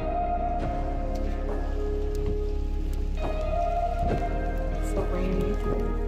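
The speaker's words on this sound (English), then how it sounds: "It's so rainy." Steady rain falls continuously, with occasional louder drips and patters layered over the constant hiss.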